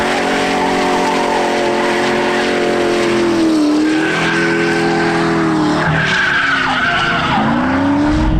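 A car drifts around a track, its tires squealing loudly in long, wavering screeches over a roaring engine, the pitch bending as the slide changes, with no voices.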